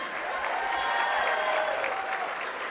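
Crowd applauding and cheering in a gym at a girls basketball sectional final between Waupun and Prairie du Chien, a sustained dense clapping roar with some voices mixed in.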